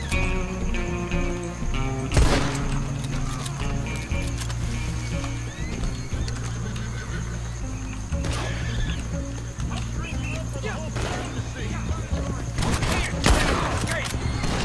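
Gunfire in the Red Dead Online video game: a couple of sharp bursts stand out over a busy mix of galloping horse hooves and game noise, while someone talks throughout.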